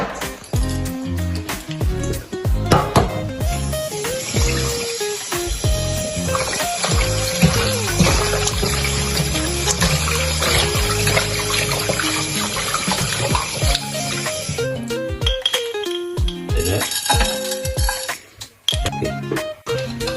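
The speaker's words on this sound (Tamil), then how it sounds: "நாங்கள் மஞ்சத்தூள் எடுத்து ஒரு கரண்டி போட்டு மஞ்சள் அளவடிவாக கழுவுவோம்." Raw chicken being washed in water with a spoonful of turmeric for a Tamil masala chicken fry, with running tap water splashing loudly and continuously into a sink and small clinks of a bowl, easing off near the end.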